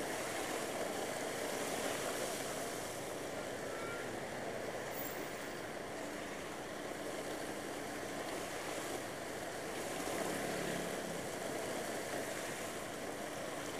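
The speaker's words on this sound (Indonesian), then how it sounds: "Lihat airnya cukup lumayan deras mengalir rekan-rekan." Strong floodwater rushes across a damaged stretch of the Bukittinggi–Padang access road, a steady, loud broadband roar of flowing water that continues without a break, with no voices.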